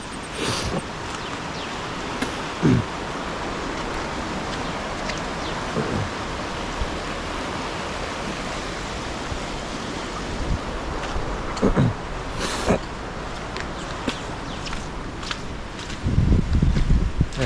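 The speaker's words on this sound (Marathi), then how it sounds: "आणि इकडे नदी आहे हे बघा" A river flows beside a village temple in rainy Konkan, giving a steady, broad rushing wash that holds unbroken for the whole stretch with a few faint knocks and no talk.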